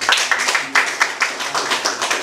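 A few people clapping at a hypnosis and magic talk show event, with sparse irregular claps over about two seconds, moderately loud and close.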